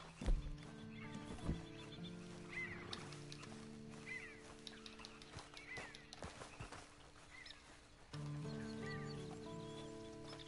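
A horse in the video game Red Dead Redemption whinnies and snorts among clopping hooves, with game-like ambient tones and a steady musical drone in the background.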